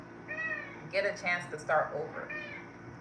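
A cat meows in drawn-out, whiny cries, several in a row, while a person speaks over them nearby.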